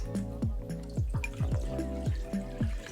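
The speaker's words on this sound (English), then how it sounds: "So first things I'm going to do is just chuck in the water." Water pours into the bowl of a Famag IM5S spiral mixer for sourdough pizza dough, a close, bubbling glug with rhythmic gurgling pulses and rising pitch sweeps as the vessel fills.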